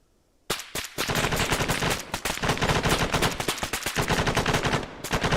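Sustained automatic gunfire from Arma 3, dense rapid bursts of machine-gun fire at close range, loud and continuous for about five seconds with no talking.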